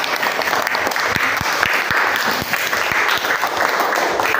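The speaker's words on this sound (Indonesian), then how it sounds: "Kalau bisa kita tepuk tangan bersama-sama" A group of schoolchildren claps together in a steady, dense patter of applause that fills the room, with a few sharper individual claps standing out near the front.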